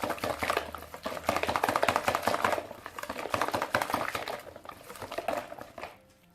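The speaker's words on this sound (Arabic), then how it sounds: "غادي نزيدو الماء اللي عادي، غادي نستمر في الخلط بهذا الشكل هذا" Chocolate cake batter is mixed after water is added, a rapid, steady clatter and sloshing as a whisk or spoon beats against the bowl, close and busy for about six seconds before stopping abruptly, with no talking.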